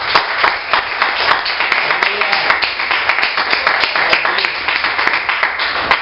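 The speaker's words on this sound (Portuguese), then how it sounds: "Aplauda o Senhor." An evangelical church congregation clapping together, loud and continuous, with dense overlapping handclaps sustained evenly throughout and no talking over them.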